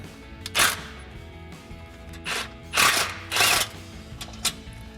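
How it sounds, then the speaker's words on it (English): A 16mm socket wrench loosening a bolt on a Jeep Gladiator JT frame rail: several short, close bursts of rapid ratcheting clicks separated by quieter gaps with a faint background hum. "we'll grab that 16mm socket for the bolt."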